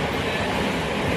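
Steady, loud rumble and rattle fill the inside of a moving commuter train on a morning ride toward Nala Sopara, with no clear voices over the continuous noise.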